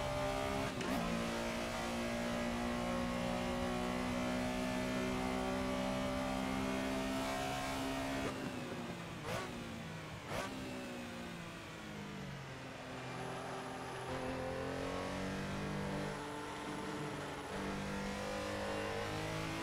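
Porsche Carrera RSR 3.0 race car in the Assetto Corsa racing game at Barcelona, its engine droning and revving steadily through gear changes, loud and continuous with no talk.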